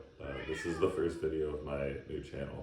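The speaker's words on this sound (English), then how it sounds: "That's my cat." A pet cat named Prince Zuko meows, drawn-out cries mixing with a person talking throughout.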